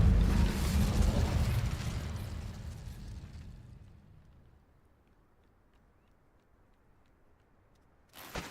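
Spell blast from the fire spell Incendio in Hogwarts Legacy: a loud burst of flame that roars and slowly dies away over several seconds, followed by near silence and a brief new sound at the end.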